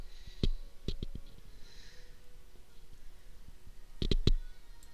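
Computer mouse clicks come in small clusters, crisp and close, separated by quiet stretches with faint breathing and room noise.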